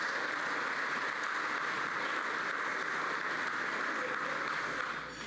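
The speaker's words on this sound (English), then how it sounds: "Let's give them a round of applause." An audience applauds the Visit Tulsa and Tulsa Sports Commission hosts at the Bassmaster Classic Night of Champions, a steady dense wash of clapping held for several seconds before easing off at the end.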